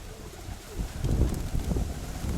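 Soft, low pigeon cooing repeated a few times close by, with light wind noise around it.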